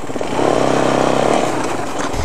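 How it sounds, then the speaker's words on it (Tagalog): A four-wheeled ATV quad bike ridden on a rocky river-crossing trail, its engine droning steadily with a rising revving tone in the middle before easing off, loud and close. "first time ko palang mag-drive nitong all-terrain vehicle or ATV for short. A four-wheeled motorcycle, sometimes called quad bike."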